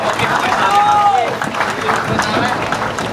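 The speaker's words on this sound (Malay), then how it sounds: "Beri tepukan yang kuat kepada beliau." A crowd at a political rally in Sabah, Malaysia, applauds amid loud crowd noise and overlapping voices, and a short whistle cuts through partway.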